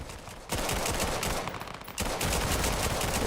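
Rapid bursts of video game gunfire crackle loudly and continuously, with a brief lull before a second dense volley of shots, close and unbroken, with no talk over it.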